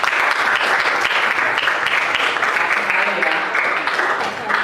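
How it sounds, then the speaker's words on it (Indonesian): Applause for a student named Arga in a junior high classroom, a steady dense patter of many hands clapping at close range that holds evenly for several seconds, with a few voices mixed in beneath it. "Tepuk tangan untuk Arga."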